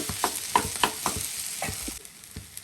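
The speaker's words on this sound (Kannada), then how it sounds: "ಗರಂ ಮಸಾಲ ಚೆನ್ನಾಗಿ ಬೆರೆಸಿ ಹುರ್ಕೋಬೇಕು" Vegetables are stirred with garam masala in a pan, a quiet sizzle broken by several sharp spoon scrapes and taps in an uneven rhythm.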